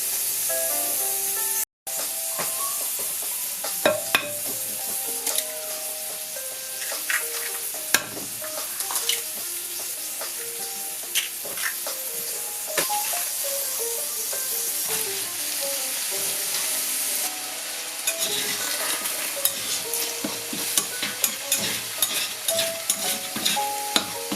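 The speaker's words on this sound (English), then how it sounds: "We're just scrambling up this egg." Egg, celery and bok choy fry in a pan for fried rice with sausage, giving a steady loud sizzle with repeated scraping stir strokes throughout, continuous and close, with no talking.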